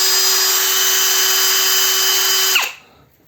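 A DEVETECH CIS 120 cordless drill fitted with a thin bit runs at a steady high whine for about two and a half seconds, then winds down and stops, close and loud with no talking.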